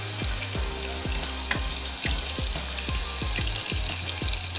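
Garlic frying in a pan makes a continuous close sizzle and crackle, while a steady low hum with repeated rhythmic pulsing runs underneath.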